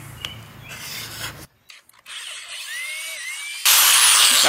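A drill whirs and bites into scrap plywood to bore a pilot hole, with scraping and rubbing first, a short pause, then a brief motor whine and a loud, steady close-up burst of drilling at the end.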